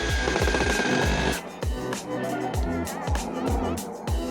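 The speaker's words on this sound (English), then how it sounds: "I'm going to switch from my impact and go back to my drill." A power drill whirring in repeated short bursts, its pitch rising and falling as it drives screws into wood for deck balusters, close up with a busy workshop background.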